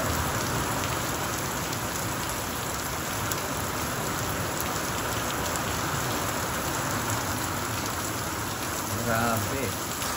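Hail pelting down on surfaces outdoors, a dense, steady loud hiss and patter filling the whole stretch, with a brief voice near the end.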